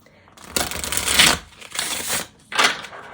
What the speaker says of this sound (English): the ASMR delight of my riffle shuffle